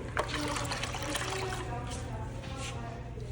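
Water runs steadily from a tap for hand washing in a pottery studio glazing area, a continuous trickling wash under faint room noise.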